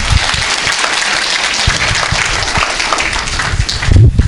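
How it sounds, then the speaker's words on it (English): Audience applause after a speaker at a community event about the Ogaden, a dense steady clapping lasting the whole few seconds, fairly loud with a swell near the end. "give her another round of applause"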